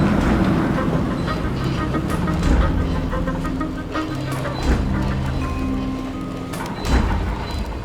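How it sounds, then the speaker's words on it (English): A train pulls into a station inside a surreal adventure game, a steady low rumble and rolling clatter filling the scene with brief heavier thumps as it arrives, moderately loud and continuous. "Look! A train arriving at the station."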